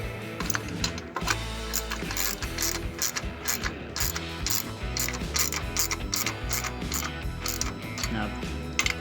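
A ratchet snugs bolts on a Ranch King riding mower, giving repeated close clicking runs of the pawl with short pauses between strokes over a steady background.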